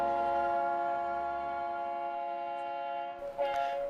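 A cog railway train on a mountain line in New England in autumn, heard as a steady, faint, droning tonal hum with a brief rougher burst near the end.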